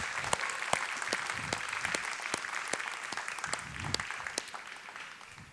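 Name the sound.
audience applause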